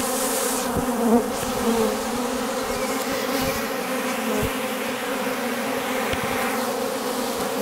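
Steady, dense buzzing of many male drone honeybees close by, a continuous drone-like hum with no pauses.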